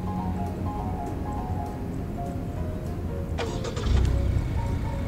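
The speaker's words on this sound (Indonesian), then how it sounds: "dan mobilnya akan menyala, sekaligus AC di dalam pun akan ikut menyala gitu" A Honda Civic starts by remote start, with faint clicks followed by the engine catching and settling into a low steady idle near the listener.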